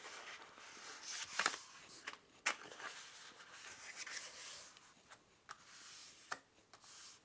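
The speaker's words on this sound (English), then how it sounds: "So basically you're just creasing those score lines" Paper is creased along the score lines of a 6x8 folio, giving faint, close rubbing and scraping strokes broken by a few sharp ticks and taps, with no voices.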